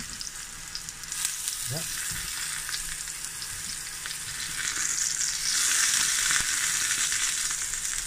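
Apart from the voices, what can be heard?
boletus mushrooms frying in a pan, flipped over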